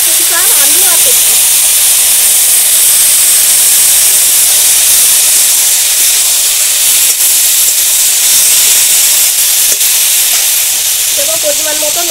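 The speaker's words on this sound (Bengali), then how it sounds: "এবার এখানে সেদ্ধ করে রাখা সবজিগুলো দিয়ে দেবো, চাল কুমড়ো পুঁটিটা আলু আর সবজি।" Boiled ash gourd, potato and other vegetables go into a hot pan of onions fried until deep red for a village-style ash gourd dish with small shrimp, Malabar spinach and taro, giving a loud, steady sizzle and hiss that runs throughout.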